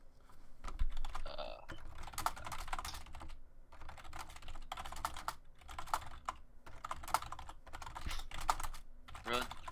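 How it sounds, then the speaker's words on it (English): Someone types on a computer keyboard in quick bursts of close, clicky keystrokes with short pauses between them, with occasional talk in the background. "Who's typing? I'm typing."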